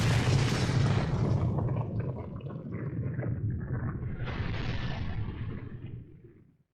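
A huge video-game explosion from Naruto Ultimate Ninja Storm 2 roars out loud and close as one sustained blast, rumbling on for several seconds before dying away.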